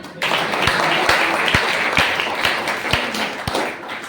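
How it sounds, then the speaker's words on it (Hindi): Audience at a college poetry recital claps loudly for a poet, a dense burst of applause rising quickly and holding, with a few sharp individual claps punctuating it at intervals. "हमारे बीएड डिपार्टमेंट के कवि को जोरदार तालियां"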